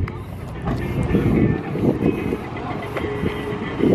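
A 600HP stock K20 AWD Honda Civic sedan on street tires accelerating hard, its engine note surging and shifting through pulses, heard from inside with people talking over it.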